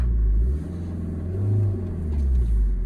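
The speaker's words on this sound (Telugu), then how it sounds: "బండి మొత్తం మోషన్ డౌన్ అయిపోతుంది చూస్తున్నారు కదా ఫస్ట్ గేర్లో ఇరవై ఐదు దాకా లేస్తుంది" A vehicle engine labours in first gear up the steep Umling La road at about 19,024 ft, a loud, steady low rumble that dips briefly and then swells again as it strains to hold speed.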